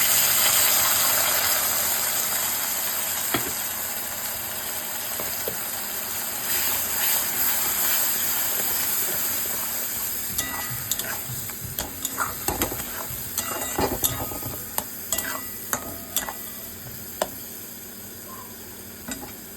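Spice paste frying in hot ghee for a Bengali prawn dish, a loud steady sizzle and hiss with scraping stir strokes and clinks of a spoon growing more frequent toward the end, no voices.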